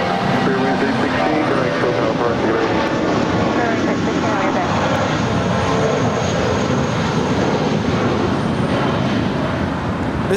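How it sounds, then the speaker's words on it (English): A Spirit Airbus A320 departing from runway 25 right at LAX, a loud continuous jet engine roar with steady broadband rumble and surrounding traffic noise. "This is Spirit Wings 816 departing to Kansas City on an A320."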